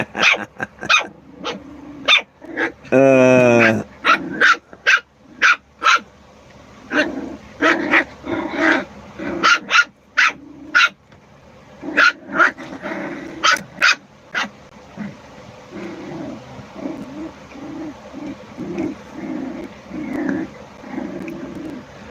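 Puppies bark and yip in a rapid, uneven series of sharp calls, with a brief whimpering whine early on and some growling, close and loud, continuing throughout without talk.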